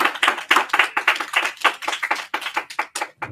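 A small group giving a round of applause at a Shabbat gathering, brisk uneven hand claps close by for a few seconds with no speech over them.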